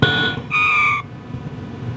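Photon torpedo effect from a Star Trek arcade game on a Sega G80 board set, played in a sound test: two steady electronic tones in quick succession, the second pitched lower and held about half a second, over a hum of background noise.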